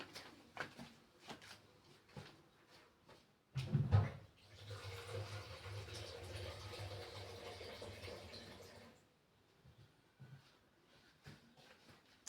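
Water poured into a pot of maize for boiling, a sustained splashing pour of about five seconds after a few clinks and handling noises, with quieter taps afterward.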